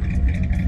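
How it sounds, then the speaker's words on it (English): A muscle car engine with glass pack mufflers rumbles deep and steady at idle, close and loud, with no talking. "Yeah, it's a muscle car."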